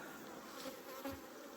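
Honey bees hum softly around a beehive, a faint, steady buzzing with a couple of slightly louder passes, no voices.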